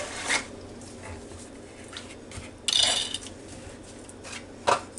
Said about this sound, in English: Then I'm going to put my fruit cocktail that I drained, and we're just going to stir it together.